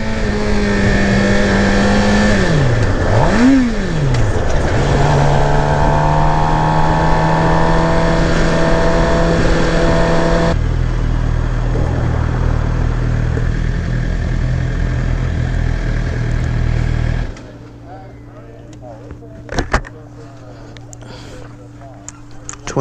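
A 2018 Suzuki GSX-R750 sport bike revs up and down through the mid-range, the engine loud and near at first, then settling to a lower drone before fading into quieter road noise.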